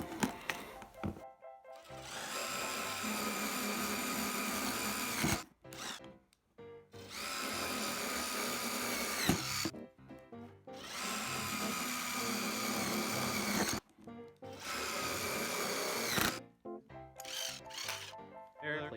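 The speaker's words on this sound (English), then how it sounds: "And then we'll go ahead and drill our little corner holes." Three long bursts of a power drill cut small corner holes in a plate, each loud, high whine lasting a few seconds and separated by short pauses with clicks and handling noise.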